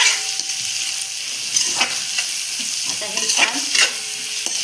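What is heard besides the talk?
stirring jackfruit biryani rice in a pan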